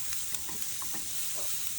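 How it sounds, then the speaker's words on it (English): Chopped onion frying in a pan for a street-style paneer burger, a continuous close sizzle with a few soft stirring scrapes. "So here I have added onion. I'm going to fry them till they become"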